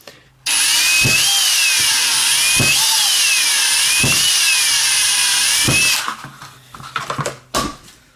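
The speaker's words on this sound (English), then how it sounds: "I've drilled holes, as you can see, all the way around the edges" A power drill boring holes around the edges of car tweeter pods for Focal tweeters, a loud continuous whine with wavering pitch for about five seconds, then stopping, followed by a few light clicks and handling knocks.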